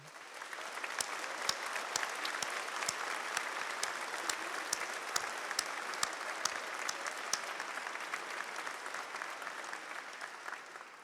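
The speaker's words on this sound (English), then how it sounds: "giving them a big round of applause" A graduation ceremony audience at the University of Lincoln claps in a broad, sustained round of applause, with sharper individual claps standing out over the dense crowd noise, fairly distant and steady throughout.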